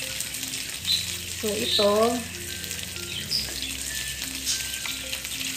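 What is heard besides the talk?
pork browning in a pan for adobo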